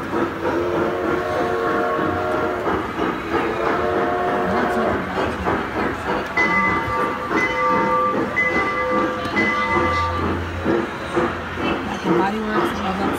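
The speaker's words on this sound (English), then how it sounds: "The choo choo train." A small choo choo train ride runs through a busy shopping mall, rolling rattle and whistle-like tones over constant crowd chatter and nearby voices.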